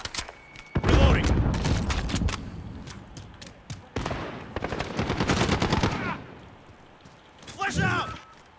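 Bursts of automatic gunfire rattle through a Call of Duty team deathmatch, loud rapid volleys coming in clusters with short gaps between them, mixed with shouted callouts from players.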